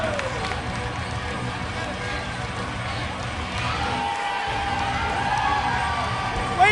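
A crowd cheers and whoops steadily throughout a professional wrestling match, a loud continuous roar of voices with people talking over it.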